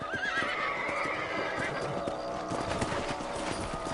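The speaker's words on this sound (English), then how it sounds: "Let's get back on the horses and see what else is going on." Horses in the Red Dead Redemption video game gallop with a brisk, continuous clip-clop of hooves, accompanied by a whinny and a steady backdrop of game music.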